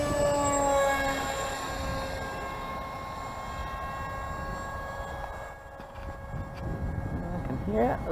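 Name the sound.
helicopter flying overhead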